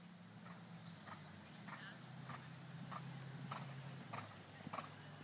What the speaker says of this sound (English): Horse is cantering very nicely over its back